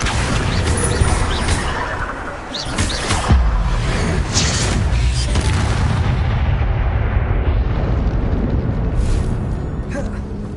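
Confringo blasting spells exploding in Hogwarts Legacy, a dense run of loud booms and bursts over continuous rumble, with brief voices and spell callouts mixed in.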